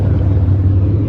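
A Toyota Supra's engine rumbles steadily nearby, a deep continuous low drone with no voices over it.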